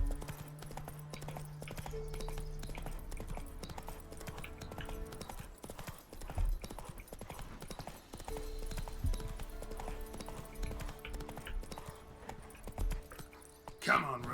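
Roach, a horse in a Witcher 3 game, trots along with steady, close hoof clip-clops that pause briefly and then resume, mixed with game ambience and occasional speech.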